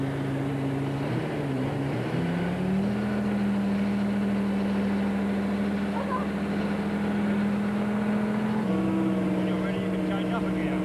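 An Abbott classic car with an automatic gearbox pulls away. A steady engine drone lifts in pitch as it moves off and holds an even tone, with a faint shift near the end.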